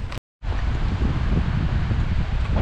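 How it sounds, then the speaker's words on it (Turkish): Wind blowing outdoors at a village house, a steady rushing and buffeting roar close to the microphone after a brief cut at the start, no voices. "Şurada rüzgar var burayı."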